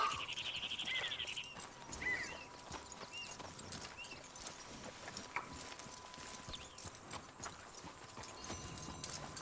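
A horse's hooves clip-clop steadily at a walk in Red Dead Redemption 2, soft and mid-distance, with faint birdsong and ambient outdoor game sounds around them.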